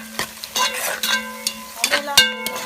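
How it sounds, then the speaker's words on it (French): Onions stirred in a pot with a utensil, a series of sharp clinks and scrapes against the metal over a light sizzle, loud and close. "On mélange les oignons."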